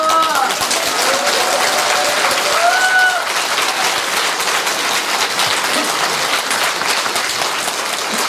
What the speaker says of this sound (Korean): 박수를 줬네.